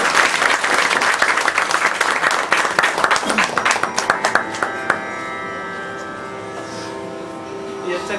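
An audience at a devotional kirtan performance in Singapore claps loudly for the musicians, the applause thinning and fading after a few seconds, while a voice speaks and sustained harmonium-like tones linger beneath.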